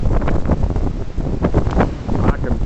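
Strong gusting wind storm of about 30 mph with gusts to 42 at a boat dock, buffeting the microphone in loud, continuous rough rushes with surging peaks.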